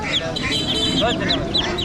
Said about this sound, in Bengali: কি চীনা হাঁসের বাচ্চা